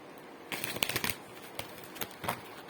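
Tarot cards shuffled by hand, a series of crisp riffling bursts followed by several separate soft snaps and flutters, close and clear with no talking.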